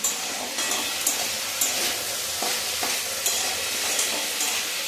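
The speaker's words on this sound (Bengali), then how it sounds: "এই যে আলু ভাজা হচ্ছে।" Potatoes fry in a pan with a continuous loud sizzle, punctuated by periodic scraping stirs of a spatula at a steady rhythm, with nobody speaking.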